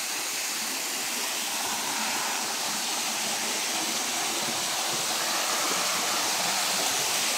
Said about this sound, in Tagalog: Napakalakas ng tubig dito.